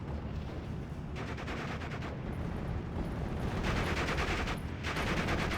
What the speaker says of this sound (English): Looks like we do got a counter barrage onto that mortar team.